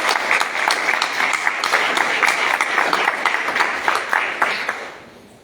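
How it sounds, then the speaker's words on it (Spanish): An audience at a Spanish-language panel discussion breaks into steady, dense applause with many hands clapping together, holding full strength before fading out over the last second. "Le damos un fuerte aplauso, chicos"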